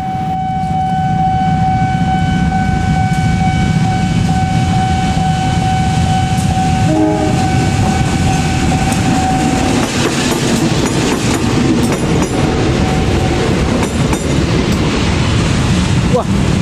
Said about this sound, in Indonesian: berpapasan dengan kereta api